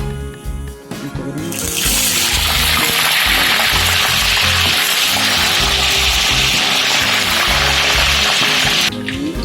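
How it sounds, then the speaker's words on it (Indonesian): A loud, dense hiss of oil sizzling as cut potatoes fry starts after a brief pause and continues steadily, with occasional clatter and scraping underneath. "kentang yang sudah kita potong-potong digoreng"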